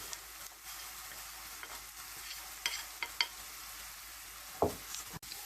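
Quiet, steady sizzling of vegetables frying, with fresh cabbage added, occasional scrapes and taps of a utensil stirring in the pan and one louder clatter near the end.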